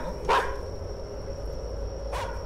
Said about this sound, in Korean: 댕댕이가 있네요.